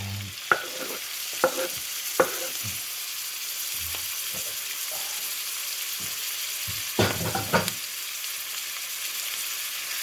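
Burong isda, fermented fish with rice, stirred in a pan as it fries; sizzling runs steadily beneath a handful of sharp scraping clicks from the utensil, clustered near the start and again toward the end, with no talking.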